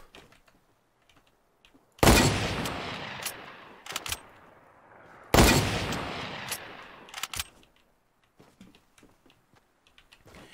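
Two loud, sharp blasts from the new double barrel shotgun in Fortnite, a few seconds apart, each ringing out with a short decay, followed by scattered faint clicks and small impacts.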